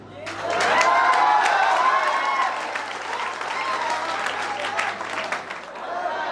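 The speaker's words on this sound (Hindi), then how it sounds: "ये पूरा महफिल हाथ उठा के हमारे लिए तालियां बजाएगा" Applause and cheering from an audience at a school toppers' award ceremony in Gaya, a loud burst of clapping that eases to a steady patter, with voices and shouts mixed in.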